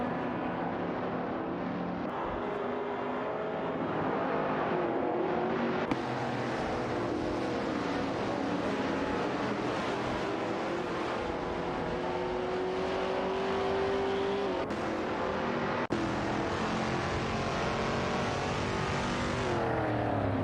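Engines of AI-driven race cars in a racing video game drone steadily for the whole stretch, with a dense mechanical roar and changing pitch as cars accelerate and shift. Abrupt cuts break the sound several times, and no one speaks.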